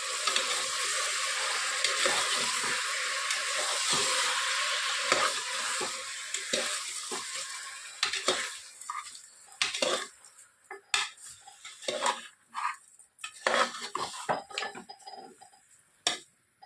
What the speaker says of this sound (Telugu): రుచికి సరిపడినంత ఉప్పు వేసి బాగా కలుపుకోవాలి.